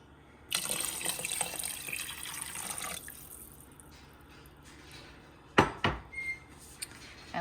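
Water poured into a pot of cabbage soup with sautéed vegetables and chili powder: a close splashing gush for a couple of seconds that tapers off, followed by a few clanks of a cup or pot.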